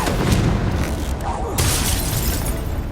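A Confringo blast spell explodes in Hogwarts Legacy combat, a loud, dense rumbling boom with crackling debris that sustains for a few seconds, close and heavy under the battle noise.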